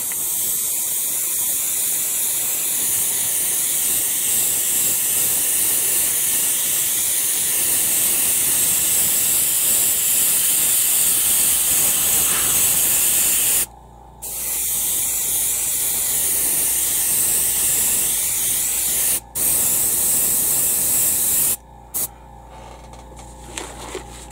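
Steady, loud hiss of an airbrush spraying paint thinned 50-50 with thinner, continuous, with a few brief pauses near the end as the trigger is released.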